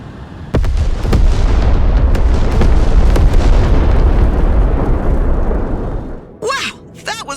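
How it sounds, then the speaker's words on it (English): Ballistic missile strikes land in the Broken Arrow war game, a loud sudden blast swelling into a long rumbling roar of explosions that slowly fades, followed by brief shouted voices. "Ballistic missiles! Get off the road! Now!"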